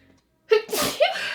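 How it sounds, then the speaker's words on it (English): One sharp human sneeze, a quick inhaled catch followed by a forceful, breathy burst, close and loud in a quiet room. "Oh, I have to sneeze."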